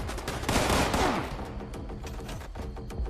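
Shotgun fire in the video game Fallout 76: a dense burst of overlapping blasts that peaks early, then rapid scattered shots trailing off, loud and close, with no talk.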